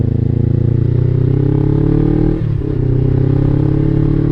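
A Suzuki SG500 motorcycle engine while riding, a steady low drone with a smooth even hum that holds throughout, briefly dipping near the middle as if shifting gears, loud and close with no speech.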